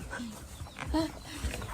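A dog whimpers and lets out a few short yips close by, with soft voices and movement around it.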